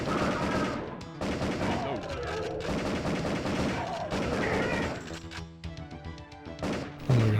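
Light gun shots in Area 51 on the PlayStation, played with a Justifier light gun, come as a run of sharp, punchy bangs amid game sounds. Later the shots thin out into occasional hits.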